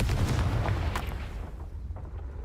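A Confringo fire spell blasts in Hogwarts Legacy, a loud, rumbling explosion with a heavy low boom that holds steady for about two seconds, then thins out.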